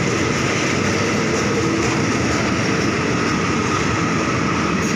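A train arriving at a station in Thailand rumbles steadily close by, a loud continuous roar of wheels and engine that holds constant throughout, with no voices.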